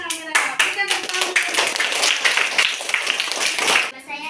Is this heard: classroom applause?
yes